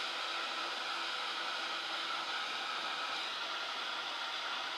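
A heat tool blows a steady, even whoosh of hot air to dry ink on a craft project, running continuously at a moderate, constant level without any voices.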